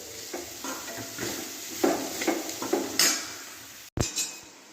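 Capsicum being stirred and sautéed in a pan for a Tamil poriyal: a soft sizzle under repeated scraping and clinking of a metal spoon against the pan, close by, with a sharp clank near the end.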